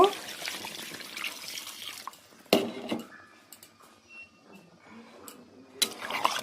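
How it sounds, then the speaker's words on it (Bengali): Water pours into a Bengali fish curry of live fish with potato and bori, a soft splashing wash with a few sharp utensil knocks near the pot. "এবারে আমি পরিমাণ মতো জল দিয়ে দিব"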